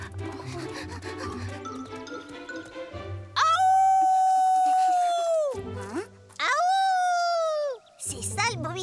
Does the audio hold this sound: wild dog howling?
yes